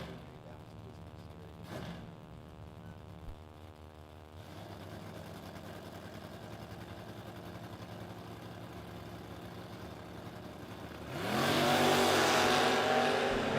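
Drag racing at the strip between a 1968 Camaro and a Corvette: engines idle and rumble in the lanes, then one roars up loudly near the end, with a distant announcer's voice.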